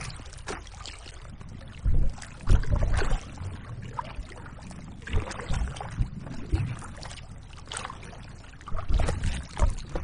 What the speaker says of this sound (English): I'm paddling into the wind